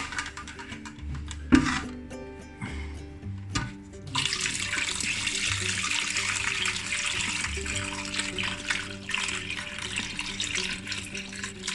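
Homemade wine pours steadily into a vessel after a few clinks and knocks, a continuous splashing stream up close.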